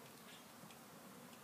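Honeybees buzz in a steady, faint drone during the installation of a five-frame nuc, with a soft continuous hum and no talking.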